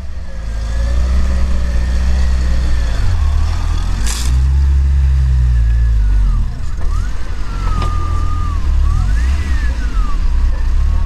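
A Lada Niva engine working hard off-road during a contest, loud and close, with a sustained low rumble and rising and falling revs as the car pushes through rough ground.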